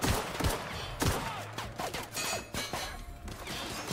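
Gunfire during combat in the PC game The Outer Worlds, a burst of loud close shots and impacts spread across the clip with crashing hits and clatter.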